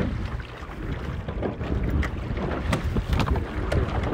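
Wind buffets the microphone in a steady low rumble while a men's masters eight rows on open water at a regatta, with faint splashes and oar strokes under it and no voices.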